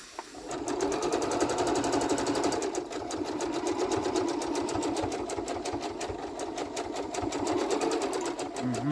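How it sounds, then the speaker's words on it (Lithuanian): A Rubina H40A sewing machine running steadily with thick thread and a heavy denim needle, a fast even mechanical rattle continuing close up for the whole stretch. "kodėl siūna storais siūlais? Todėl, kad įstatyta pakankamai stora adata."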